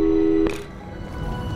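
A telephone gives a steady electronic tone after a call, which cuts off abruptly and is followed by a short burst of noise and quiet line hiss.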